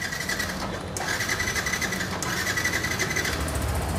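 New 2023 motorcycle engine running, a close, steady, rapid mechanical chatter with a ticking rhythm that continues throughout, no talk.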